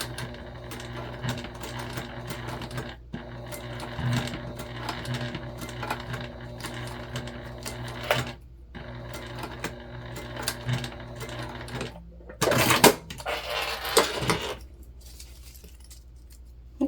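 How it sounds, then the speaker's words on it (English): A sewing machine runs top stitching on a small mini backpack, bursts of rapid mechanical needle chatter with short pauses between, close and clear, followed near the end by a jangling metallic clink and rustle, with no voices. "we're going to put the same top stitch that we did on the other side"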